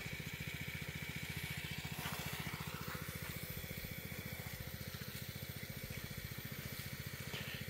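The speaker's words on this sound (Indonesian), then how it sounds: "merek Sanchen, mesin Dorsmir untuk nyemprot" A Sanchen engine-powered sprayer runs on a durian orchard planted on former rice fields, its small engine chugging in a fast, even, continuous pulse at close range with no speech over it.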